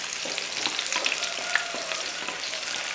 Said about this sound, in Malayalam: ആ എണ്ണയിലിട്ട് തന്നെ നമുക്കൊരു 10-15 ചെറിയ ഉള്ളി, ആ ഉള്ളിയും കൂടെ ഒന്ന് ചെറുതായിട്ടൊന്ന് വാട്ടിയെടുക്കാം